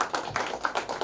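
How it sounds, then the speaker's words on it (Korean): A ceremony audience claps in brief uneven bursts, faint and somewhat distant, with a few sharper individual claps standing out. "박수 한번 부탁드립니다."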